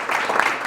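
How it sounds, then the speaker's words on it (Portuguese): A talk show audience gives a brief round of applause for the guest, a short dense patter of many hands clapping at moderate volume. "salva de palmas para ele"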